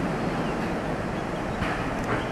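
Steady broadband wash of sea surf at a beach, continuous and fairly loud, with wind buffeting the microphone and no talking.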